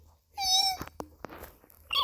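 A cat gives a single clear, fairly close meow lasting about half a second, followed by faint clicks and low room noise.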